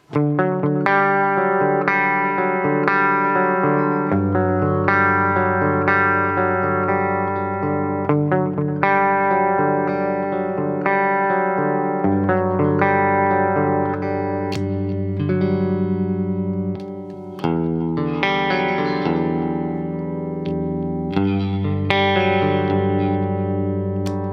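Electric guitar, a custom Strat, through a NUX MG-50 Li's G-Max Clean amp model, steady chords and picked notes with a slight shimmer of effects, played continuously and loud with no talking.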